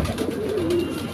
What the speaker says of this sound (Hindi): ये देखें दोस्तों, आपके लिए मैं ऐसे कबूतर लाता रहता हूँ।